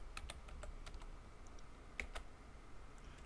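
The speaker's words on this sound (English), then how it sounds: "I'm supposed to be able to type the word SOUT and press tab" Quick keystrokes on a computer keyboard, typing a short shortcut word in the NetBeans editor and then pressing tab, heard as a handful of crisp, close clicks with a slightly louder one near the end, over a quiet room hum.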